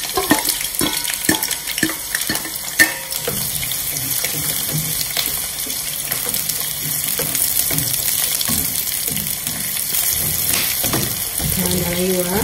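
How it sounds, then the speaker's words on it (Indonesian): Ingredients fry in reused oil in a pan while tofu begedil with sweet soy sambal is prepared, a steady sizzle with stirring clatter and scraping, running under occasional speech. "Goreng ya, goreng sehingga layu ya."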